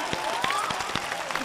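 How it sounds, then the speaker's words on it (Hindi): Audience applause at a mushaira poetry gathering, steady clapping from a crowd with a few sharper claps standing out, moderately loud and continuous. "एक बार जोरदार तालियां बजाकर मेरी हौसला अफजाई फरमा लें"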